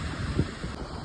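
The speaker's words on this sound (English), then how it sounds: "Little breezy." Wind blows across a sandy beach, a steady rushing buffet of breezy air against the microphone, with no voices heard.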